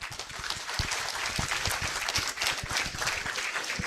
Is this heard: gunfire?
no